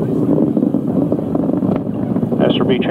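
An Atlas rocket with solid rocket boosters roars continuously during launch as a loud, steady, low rumble with wind-like buffeting, and a voice speaks over it toward the end.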